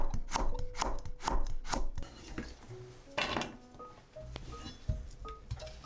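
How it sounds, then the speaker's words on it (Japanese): A kitchen knife slices a carrot into thin strips on a cutting board, with about five quick, crisp chops in a row, then scattered lighter taps and board sounds. "人参の3分の1本ぐらいは短冊切りにして"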